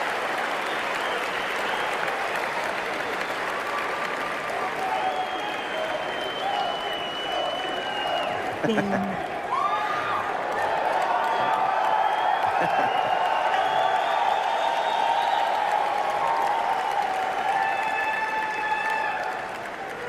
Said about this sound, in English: roar of that crowd.